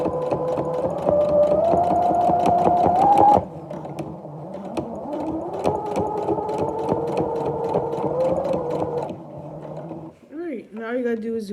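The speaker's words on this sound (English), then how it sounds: "Now all you gotta do is do a back stitch to secure it." Domestic sewing machine stitching fringe trim, a steady close mechanical whirr with rapid needle clatter that pauses briefly and resumes, then stops before a few other sounds; a voice talks over much of it.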